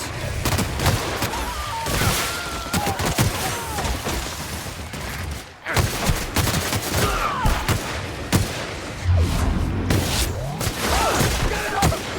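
Gunfire in the video game The Outer Worlds crackles in rapid bursts and repeated shots, dense and loud with a brief lull midway, while a player talks over it.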